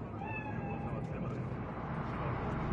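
A cat meows in a Cyberpunk 2077 game scene, several short rising cries heard near at the start over a constant noisy backdrop of game ambience.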